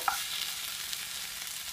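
Mushroom gravy with tomatoes frying in a pan gives a quiet, steady sizzle, with one brief spoon clink at the start.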